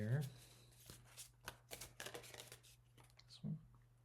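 Tarot cards riffle and slide as they are shuffled and drawn, with brisk papery flicks at close range mixed with a voice talking quietly.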